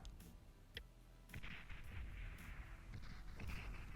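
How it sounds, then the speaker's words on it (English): Artillery in the strategy game Beyond All Reason bombards enemy defences, a quiet, distant spread of booms and crackling impacts with no talking. "Using that artillery just to bombard the defences before we go in"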